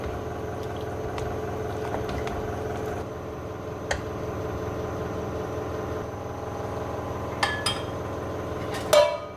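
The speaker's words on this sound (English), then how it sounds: "Give that a quick stir." A spoon stirs celery in a cooking pot while making pulled mutton chilli, with light metallic clinks and scrapes over a steady low bubbling simmer and a few sharper knocks near the end.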